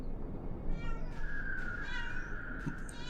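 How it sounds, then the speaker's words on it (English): A cat meows in a steady drawn-out cry over a busy background of game sound and noise, reasonably near and moderately loud. "My cat says hello."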